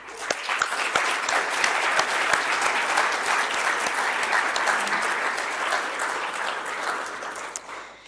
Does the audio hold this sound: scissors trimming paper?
no